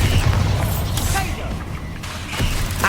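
A Bombarda blasting spell detonates in Hogwarts Legacy, a dense, rumbling boom layered over busy battle noise and voices, with low thuds and crackling bursts swelling and fading through the moment.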